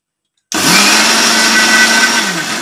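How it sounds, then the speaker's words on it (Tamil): A mixer grinder whirs into life after half a second of silence and runs steadily at high speed, grinding soaked ingredients into batter for Thanjavur thavala adai, loud and close with a constant motor drone. "மிக்சியில் தான் அரைக்க போகிறேன்"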